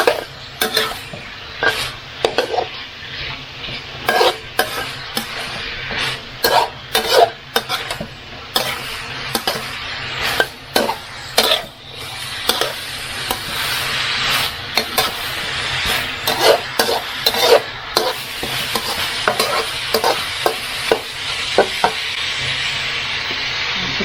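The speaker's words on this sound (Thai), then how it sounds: "คุณป้าจะผัดหอ่ไม้กับหมูให้เข้ากันก่อนนะคะ" Bamboo shoots and minced pork sizzle steadily in a hot pan while a utensil scrapes and stirs in repeated clattering strokes, loud and close throughout.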